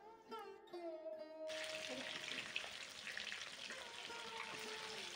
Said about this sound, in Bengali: এবার এই বেরেস্তা ভাজা তেলের কড়াইতেই ম্যারিনেট করা চিকেনগুলোকে ভেজে নেব